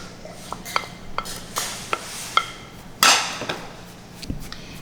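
Chopped parsley, mint and green onions are stirred into a grain salad in a bowl, with a series of sharp utensil clicks and scrapes against the dish and one louder scraping sweep.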